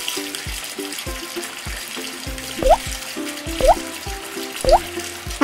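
Water splashes during washing in a Peppa Pig video game, loud and continuous, with bright cartoon sound effects and short tonal blips repeating about once a second over it.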